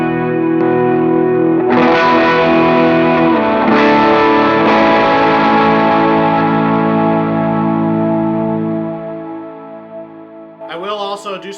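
Electric guitar played through a Kilt overdrive pedal modeled on the Expandora, a loud, sustained distorted chord ringing out for several seconds, re-struck twice, then decaying before a brief burst of fresh strumming at the end.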